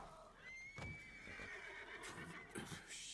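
A horse whinnies in Red Dead Redemption 2 while out on the trail near Rhodes, a long rising-and-falling neigh that is faint and fairly distant, with soft hoof clops and scuffs around it.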